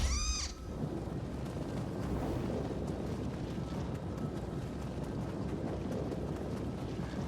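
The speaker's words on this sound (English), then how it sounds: "I hear a cat." A cat in the video game Nioh 3 gives one short meow at the start, clear and fairly close, followed by a steady bed of wind and ambient game noise.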